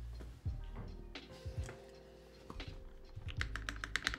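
Keys clatter on an NK65EE mechanical keyboard, with several deep, thocky space bar presses spaced out, followed by a quick burst of lighter key taps, close and clear.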